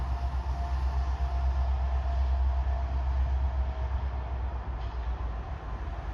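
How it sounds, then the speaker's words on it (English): A Canadian National freight train, CN 5405, switching at Pembine in November rumbles steadily as it pulls its full consist, a continuous heavy roll with no pause throughout. "As, yep, they are pulling their entire train"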